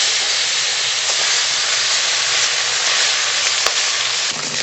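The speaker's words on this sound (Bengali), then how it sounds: "বাকি মাছগুলো ভেজে নেব।" Fish, a mud perch or royna, frying in hot oil in a home kitchen, giving a steady, close, unbroken sizzle and hiss that holds evenly throughout with no talking.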